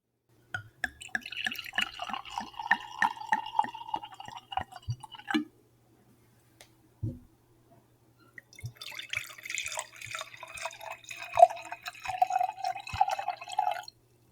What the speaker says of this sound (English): Let's give it a good pour.